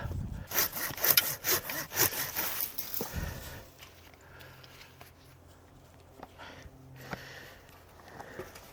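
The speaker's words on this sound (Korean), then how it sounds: "많이 생각하고 자르는 건 아니고 그냥 세력지만 자르고 있습니다" A hand saw cuts through pine tree branches in quick, close back-and-forth strokes for about three seconds, followed by quieter rustling and faint scattered sounds.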